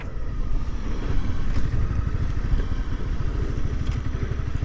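A motorcycle riding through water on a wet, sloppy track, its engine thumping in a rapid, steady pulse close by, with faint clatter over the top and no talk.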